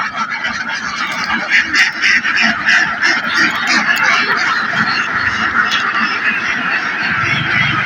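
Large flock of farm ducks, roughly a thousand feeding in a field, a dense nearby chorus of overlapping quacks throughout, fairly loud and continuous.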